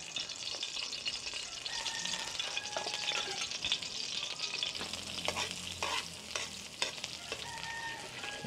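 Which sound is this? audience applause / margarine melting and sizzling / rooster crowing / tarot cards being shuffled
margarine melting and sizzling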